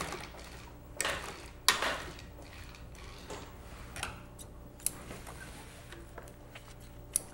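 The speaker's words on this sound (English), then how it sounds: "and you just sew to the end" A sewing machine stitches a convertible top in short, quiet bursts of clicking and ticking, with a few sharper knocks between runs and no talking.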